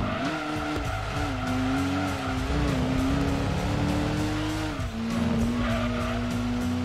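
A race car in Gran Turismo 2 drives with a loud, steady engine drone whose pitch rises and dips as it accelerates, alongside continuous tire squeal and skidding, with no talk.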